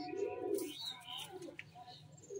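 Soft, low pigeon coos repeat a few times, faint and throaty, with slight background chatter.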